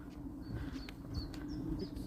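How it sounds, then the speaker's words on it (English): Birdsong on a quiet countryside walk around Wickwar: a few faint, short chirps repeat at a distance over a soft, low outdoor background. "Just the bird song."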